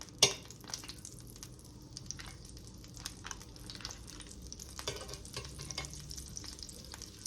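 Scallops sear in very hot, popping butter in a pan, giving a steady soft sizzle with a sharp clink near the start and a few light scrapes, quiet and close with no talking.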